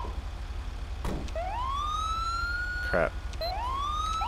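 A wailing ambulance siren sounds in GTA 5, a Ram ambulance rising and sweeping in long tones with short gaps, loud and close, while someone speaks briefly over it.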